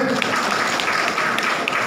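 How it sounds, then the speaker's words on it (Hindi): Applause from an audience at a political gathering, a dense patter of many hands clapping steadily and fairly loud, with a few sharper claps standing out. "तालियां बजती रहे।"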